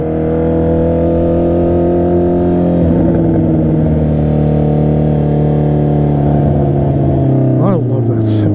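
A Honda CB650R motorcycle engine drones loudly and steadily up close, with the pitch easing slightly midway and a sharp rev blip near the end.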